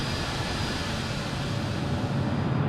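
A Sukhoi Superjet 100 airliner descends from 10,000 toward 6,000 feet near Mount Salak, a steady, loud, broadband jet roar that holds without a break.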